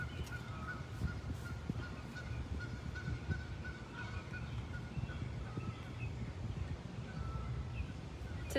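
Geese honk repeatedly outdoors at General Electric in Greenville, a scattered chorus of nasal calls at moderate distance over faint wind, with a sudden loud bump at the very end.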